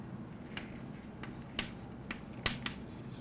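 Soft, sparse ticks and taps of a pen writing notes during a chemistry lesson, faint and close with irregular gaps between strokes over a quiet room hum.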